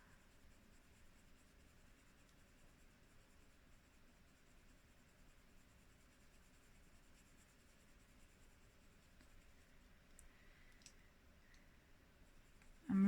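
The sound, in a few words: pastel drawing on paper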